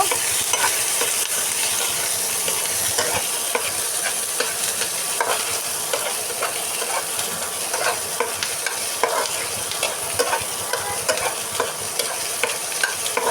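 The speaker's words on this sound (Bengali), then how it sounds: "চুলায় এখন এটাকে ভালো করে ভেজে নেব" Taro leaves with seasonings fry in a pan on the stove, giving a continuous sizzle with a spatula scraping and stirring throughout, close and fairly loud, with no talking.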